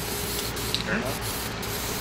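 Paint sprayed from a can onto a polished fabricated metal bracket with rounded corners, for the front driveshaft of a Cummins-powered Ford F350. A steady, fairly loud hiss runs throughout, broken by faint knocks.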